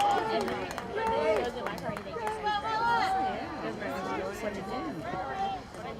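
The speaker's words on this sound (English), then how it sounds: "Might have heard the crowd react to that." Spectators at a high school lacrosse game, Columbine versus Mullen, give a noisy babbling reaction that swells and holds, with many voices overlapping throughout.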